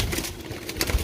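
Pigeons offered for sale, a short burst of soft cooing mixed with bird movement and wing rustle, close and moderately loud, with no talking.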